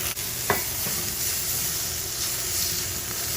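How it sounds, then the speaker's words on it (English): Asparagus sautés in a hot pan with a loud, steady sizzle and hiss, broken by a brief clatter as the spears are stirred. "And then just saute them."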